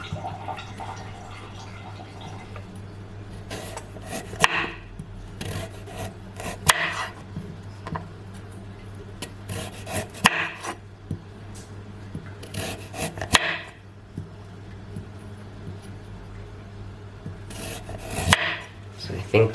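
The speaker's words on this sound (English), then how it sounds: "And then we'll chop this thing up into little circles. So get your knife." A knife slices mealworms into small rounds on a cutting surface, giving several separate soft rasping cuts spaced a few seconds apart, close and quiet.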